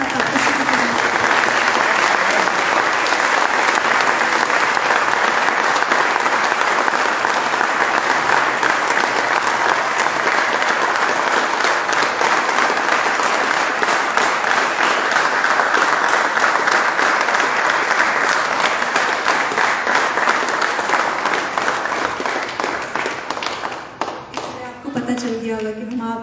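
Sustained applause from a large audience at a worship event in Budapest, Hungary, dense and loud for over twenty seconds, fading near the end as a voice begins speaking.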